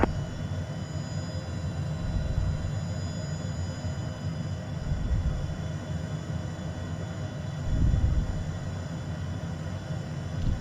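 A HondaJet HA420 jet rolls for takeoff in Microsoft Flight Simulator, a steady low engine roar with rumbling wheel noise that swells briefly near the end, heard alone at moderate volume.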